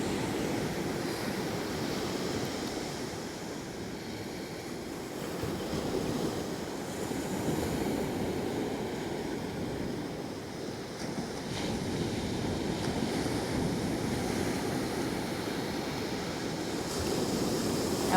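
Gentle ocean waves wash onto the shore in a steady, soft surge, with light wind noise and no voices, heard during an outdoor yoga session by the sea.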